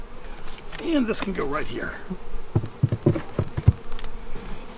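Honey bees hum around an opened beehive just after new queens were introduced, a steady insect drone running under close conversation with scattered handling knocks and taps.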